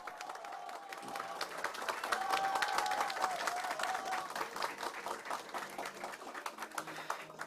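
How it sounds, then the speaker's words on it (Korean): Audience applause breaks out at a campaign fundraising committee launch ceremony, a dense steady clapping that swells in the middle and carries on to the end, with a faint voice or tone briefly audible beneath it. "뜨거운 박수 부탁드립니다"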